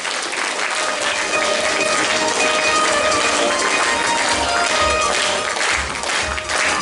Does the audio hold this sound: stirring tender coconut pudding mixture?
no